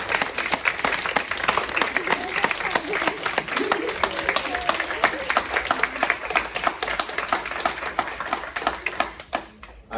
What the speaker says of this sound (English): if everyone could give a round of applause